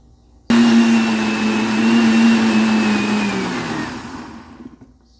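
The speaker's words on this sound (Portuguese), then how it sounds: "Então vai pro liquidificador agora." A kitchen blender whirs through a hot blackberry cocada mixture, starting abruptly with a loud, steady motor drone that drops slightly in pitch under the load, then spins down and fades near the end.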